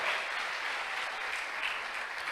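A church congregation applauds together in a continuous, even wash of clapping, heard at moderate volume and without speech.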